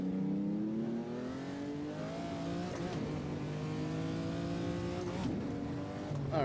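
A 1970s Trans Am race car at Sonoma Raceway holds a loud, steady engine note, rising and dropping through several shifts and throttle changes, close and continuous with no voices.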